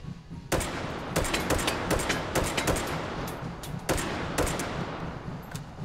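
Rapid bursts of gunfire from a weapon in the VR shooter Hot Dogs, Horseshoes & Hand Grenades, sharp close shots in quick clusters spread across several seconds over a steady game background.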